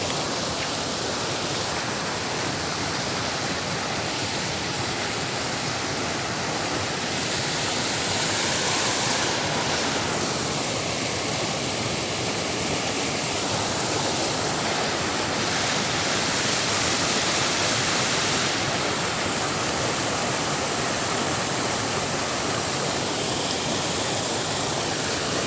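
Floodwater rushes over a dam in a steady, loud, broadband roar that holds constant throughout, with no voices.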